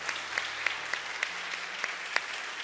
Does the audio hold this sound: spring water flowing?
no